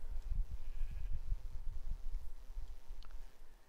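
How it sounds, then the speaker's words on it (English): Sheep bleating in a Minecraft-style block world, a few soft, short bleats close by over a low rumbling game backdrop, with no one talking. "Oh, hey, little sheep."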